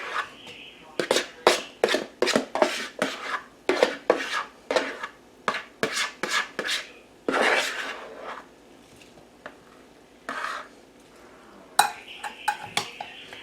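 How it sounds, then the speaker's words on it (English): A spoon works through an apple mixture with cinnamon and nutmeg being folded into butternut squash in a pot, giving a series of quick scraping, clinking strokes against the pot, close and fairly loud, with a few pauses. "Stir in that apple mixture"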